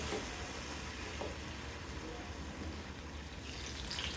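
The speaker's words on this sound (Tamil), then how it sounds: "இது மாதிரி எண்ணெயில் போட்டு பொரித்து எடுத்துக்கணும்" Kerala-style pazham pori, banana fritters in batter with sugar, frying in hot oil, giving a steady, soft, continuous sizzle and crackle throughout with no talking.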